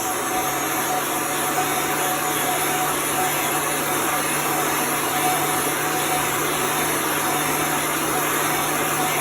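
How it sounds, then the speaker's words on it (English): A heat gun blows hot air to dry a reusable chalk transfer stencil, giving a steady, loud whirring hiss with a constant motor hum that runs unbroken the whole time. "So I'm moving my heat gun."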